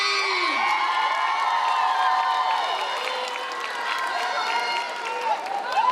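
A crowd at a K-pop dance contest erupts in screaming, whooping cheers over clapping, with many overlapping high voices filling the hall loudly and continuously.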